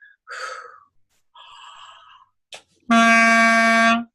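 A clarinet player takes breaths, then draws a sharp deep breath and sounds a loud, sustained clarinet note.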